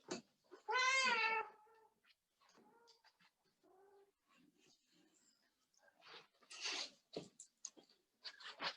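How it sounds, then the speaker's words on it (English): A house cat gives one loud, drawn-out meow up close, followed by quieter small vocal chirps and scattered rustling and handling noises in a quiet indoor room. "This is my cat."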